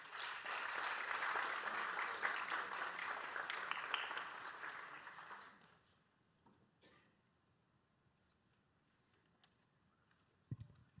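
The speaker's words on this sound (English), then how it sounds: "Let's give them all a round of applause." Applause from an audience at a school board meeting fills the first half, steady and fairly distant, then it fades to quiet room tone with a few small knocks.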